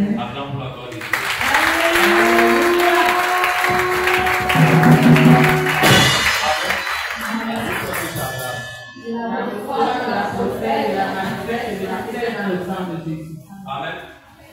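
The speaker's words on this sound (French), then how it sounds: "Acclame pour la gloire de Dieu." A church congregation applauds and cheers during a Sunday service, sustained loud clapping mixed with shouting voices and a leader speaking over the crowd.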